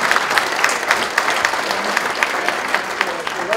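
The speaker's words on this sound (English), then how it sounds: "Let's give them a round of applause." Steady applause from a symposium audience, dense clapping at close range that carries on evenly throughout.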